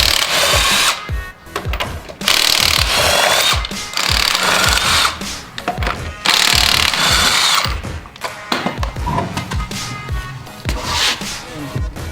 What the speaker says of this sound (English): All right, now you gotta pull the tire off, loosen the lugs.